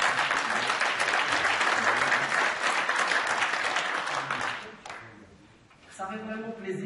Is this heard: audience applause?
yes